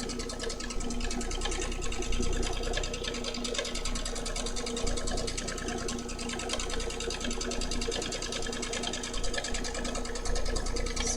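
A domestic sewing machine runs continuously while quilting diagonal lines across a quilt sandwich, giving a steady, even mechanical hum with a fast regular needle rhythm throughout, close and unaccompanied by speech.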